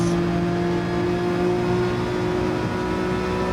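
A GT3 race car in Gran Turismo 7 accelerating, a steady loud engine drone with a strong sustained tone that holds evenly, with no speech.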